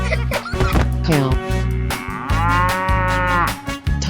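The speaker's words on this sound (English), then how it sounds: "Cow." A cow in a 3D animal video game moos in several drawn-out low bellows, loud and close, with game music and sound effects layered underneath.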